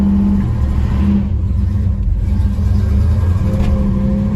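A 1967 Chevelle SS396 big-block V8 rumbles loudly and close in a parking lot, its engine revving briefly as the car moves off.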